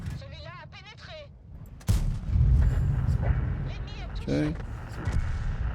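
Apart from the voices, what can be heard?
tank cannon shots in the video game World of Tanks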